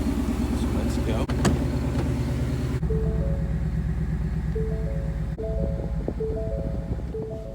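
A modified 2018 Mustang GT running with a deep, steady engine rumble heard from close by, while a voice talks over it and short chime-like tones sound in the second half.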